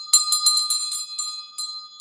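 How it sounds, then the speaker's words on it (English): A bell rung repeatedly in a quick, ringing run of strikes with a sustained metallic tone, close and loud, with no voices. "I'm inspired to ring the bell."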